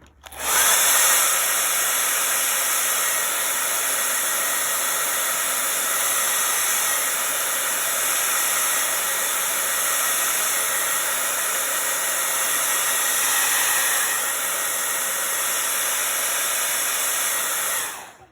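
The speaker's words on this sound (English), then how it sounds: "I'm gonna blow it dry just to speed things along." A hair dryer blows steadily to speed the drying of paint on an owl craft, a loud, even whooshing roar that runs without a break for about eighteen seconds and cuts off at the end, with no voices.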